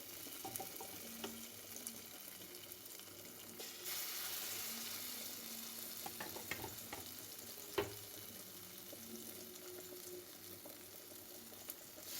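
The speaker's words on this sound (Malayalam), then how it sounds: "മീൻ വറക്കാനുള്ളത് നമുക്ക് അങ്ങോട്ട് ഇട്ടിട്ട്" Fish frying in a pan in a home kitchen, a faint, steady sizzle with occasional clinks and small splashes, distant and quiet with no talking.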